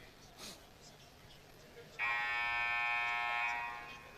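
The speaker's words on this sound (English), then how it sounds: "There's the buzzer." A basketball game buzzer at a high school varsity gym sounds once, a loud sustained electronic tone lasting about two seconds after a quieter stretch with a voice talking.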